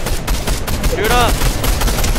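Rapid gunfire in Fortnite, a steady stream of close, loud shots filling the whole moment, with a brief rising electronic whine partway through.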